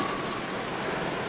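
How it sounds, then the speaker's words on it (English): Steady rain falls outside at a Bali temple, a dense even hiss of drops hitting surfaces with no other sounds standing out. "Okay, it's raining outside."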